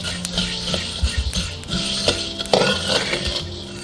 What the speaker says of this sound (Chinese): 加入20克白芝麻，30克食盐，继续小火慢炒。